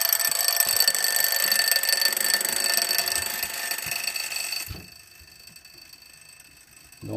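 An alarm clock rings in a continuous loud metallic rattle for nearly five seconds, then drops to a much fainter ringing as it is enclosed, with a sound starting to swell at the very end.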